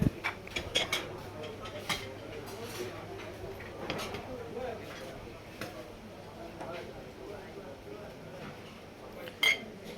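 Clinking plates and cutlery at a Bangladeshi street food stall as a plate of baim and gutum fish is dished up, with scattered dish knocks over busy market chatter and background voices.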